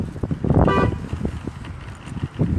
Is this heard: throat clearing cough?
no